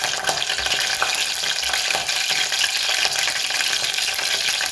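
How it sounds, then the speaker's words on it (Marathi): Green chillies sizzle in hot oil with cumin and mustard seeds, giving a loud, dense, continuous crackling fry close up, with a faint stirring scrape underneath. "त्याच्यानंतर हिरव्या मिरच्या टाकायच्या आहेत"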